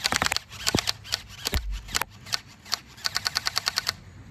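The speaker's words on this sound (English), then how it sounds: "Let me shoot something so y'all can hear it." A gel blaster toy gun fires in quick bursts of sharp clicking snaps, some shots single and others in rapid runs, close to the mic with brief handling noise between volleys.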